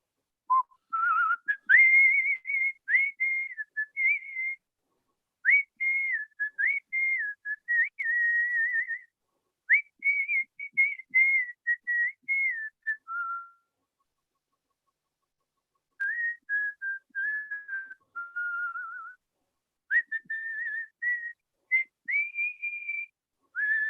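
A person whistles a melodic song alone, clear and close, in long phrases of quick wavering notes broken by short pauses.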